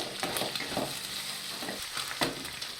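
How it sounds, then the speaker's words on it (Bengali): Chicken pieces sizzle steadily in a hot pan, with bursts of stirring and scraping every second or so, close up and without talk. "এবার চিকেনের টুকরোগুলো ওর মধ্যে দিয়ে একটু ভাজা ভাজা করে নেব।"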